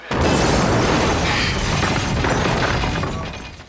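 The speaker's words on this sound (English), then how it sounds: "I think the entire glass side of the mall went up in a huge explosion." A huge film-set explosion blows out the entire glass side of a shopping mall, a loud sustained blast of shattering glass and rumbling debris lasting several seconds before tapering off.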